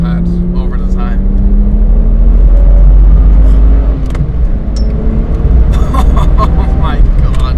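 BMW 1M Coupe engine droning steadily while driving, a loud continuous low rumble with a rising tone as it pulls, a voice talking over it throughout.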